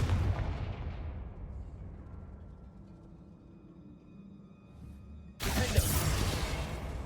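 A Confringo blasting spell in Hogwarts Legacy lets out a loud booming explosion that rumbles and fades, followed by a second sudden heavy blast burst; no talking.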